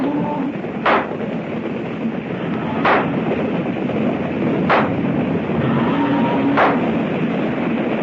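Four evenly spaced gunshots, roughly two seconds apart, are fired at a running herd as a frontier radio drama effect. They ring out over a constant rumbling background of hooves and noise, and nobody speaks.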